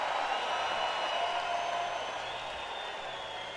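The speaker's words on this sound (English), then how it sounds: "this is actually the applause I got" Crowd applause recorded at a rock concert, a continuous hiss-like wash of clapping and cheering heard from a distance, steady and fairly faint, slowly easing off.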